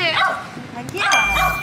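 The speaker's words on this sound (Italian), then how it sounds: "C'è un cane qui che..." A dog gives a few high, yelping barks and whines at close range, mixed with people talking nearby.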